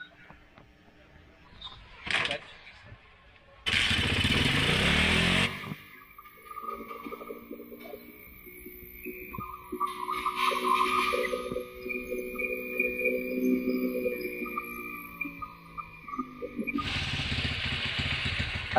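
A restored Motorstar 125 motorcycle engine cranks with clattering bursts, then catches and settles into a steady, moderately loud idle with a busy, buzzing running note that carries to the end.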